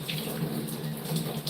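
Cold tap water runs steadily into a sink while a Miele vacuum cleaner filter is rinsed under it, a constant close splashing hiss with slight fluctuations as the flow hits the filter.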